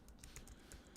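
Brief burst of quick, faint keystrokes on a computer keyboard, several clicks in rapid succession.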